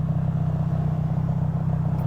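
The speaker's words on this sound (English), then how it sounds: "when I'm idling, which I'm doing right now at a red light" A Honda CRX engine idles at a red light, giving a steady low rumble with an even pulsing beat throughout, close and continuous with no voices.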